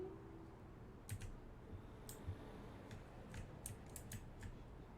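Computer keyboard keys clatter in scattered short bursts during gameplay of A Bewitching Revolution, faint and close over a steady low background hum, with no talking.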